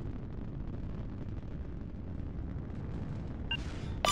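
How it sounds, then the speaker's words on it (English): A video game naval battle rumbles with a dense, continuous barrage of deep booms and gunfire, loud throughout, with a brief electronic tone near the end. "They're shooting at us."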